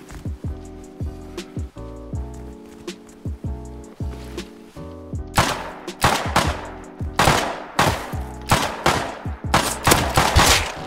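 Gunfire in the survival video game Rust: rapid, punchy bursts of automatic fire, sparse at first and then a dense stream of loud shots in the second half.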